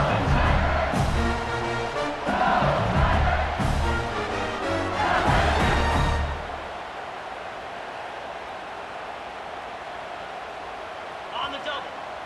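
Stadium crowd in the video game EA Sports College Football 26, a loud roaring cheer that swells for several seconds and then drops to a quieter murmuring hum.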